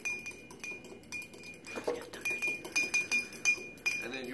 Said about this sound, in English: you're probably going to have to stir for a bit because the oil and the vinegar aren't really going to want to mix